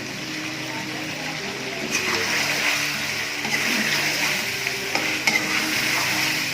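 Green chicken karahi with chilli and pepper powders frying in a wok produces a steady, close sizzle with wet stirring and occasional scraping clanks of a spoon against metal.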